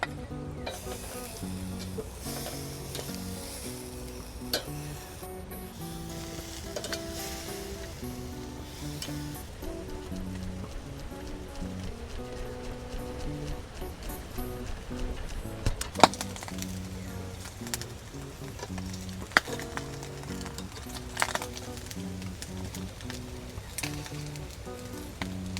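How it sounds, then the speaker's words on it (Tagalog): Pork belly seasoned with soy sauce, pepper and salt sizzles on a grill in a soft, continuous crackle, broken now and then by faint clinks and taps. "Yan, ihawin na natin. Ari po yung karne."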